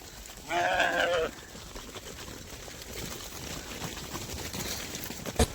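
A single loud sheep bleat rings out nearby, followed by steady outdoor background noise with faint rustling.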